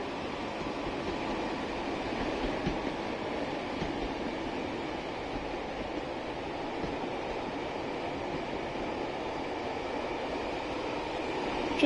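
Steady, continuous rumble of a simulated mixed-rake passenger train with intercity carriages running on rails on the Preston to Crewe line in Train Sim World 6, an even drone throughout with no talk.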